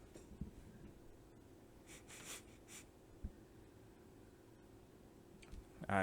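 A dachshund sniffing right at a microphone, faint close snuffles and short breathy snorts scattered over quiet room noise, ending in a louder rustle as the dog pulls away.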